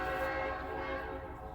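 A diesel locomotive horn sounding in a steady, sustained multi-tone blast, moderately distant and slowly fading as it runs.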